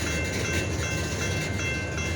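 A De Queen and Eastern Railroad freight train with GP40-2 locomotives rumbles along the tracks, a steady, continuous rolling drone at moderate distance with no talk.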